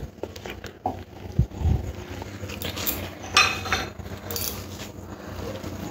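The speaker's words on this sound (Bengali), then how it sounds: "এবার সমস্ত কিছু খুব ভালো করে মাখিয়ে নেব।" Mashed potato popcorn mixture being worked together in a bowl, giving soft irregular clinks and scrapes of utensil against the bowl, with a couple of sharper knocks midway.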